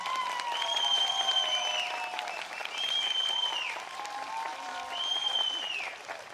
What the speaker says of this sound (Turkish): bir alkış buyursunlar